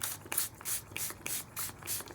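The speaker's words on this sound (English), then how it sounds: "I'm using Prima's Color Bloom Cotton Candy Spray Mist" Prima Color Bloom Cotton Candy spray mist is sprayed onto a vintage-style craft tag. A quick series of short hissing bursts repeats in an even rhythm, close and clear, with no talking.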